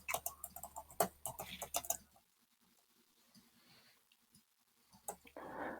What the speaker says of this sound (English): I'm just typing in these notes.